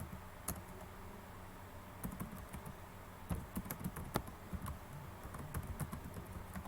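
Someone types details into an online form on a computer keyboard, with close, crisp keystrokes in irregular bursts that grow busier toward the end over a low background hiss.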